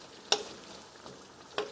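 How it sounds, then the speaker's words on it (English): Bitter melon in a frying pan is stirred with two distinct scraping clacks over a faint, low sizzle. "I stir it up a little bit,"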